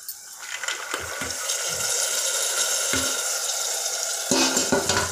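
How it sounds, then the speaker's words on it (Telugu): Onions fry in oil with salt and turmeric for a gongura curry, giving a steady sizzle with scattered scraping stir strokes and clinks from a spatula against the pan. "ఫ్రెండ్స్, ఉల్లిపాయలు వేగుతున్నాయి."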